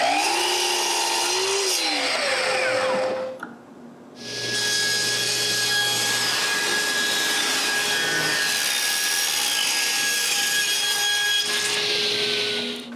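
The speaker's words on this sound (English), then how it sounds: "I begin by ripping a piece of maple" A power saw rips through a piece of maple, whining up to speed, cutting with a loud, steady tonal scream, dropping briefly to near silence, then starting up and cutting again close by.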